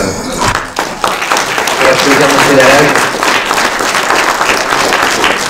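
A lecture audience breaks into sustained applause, a dense wash of clapping that follows a brief spoken remark and continues steadily to the end.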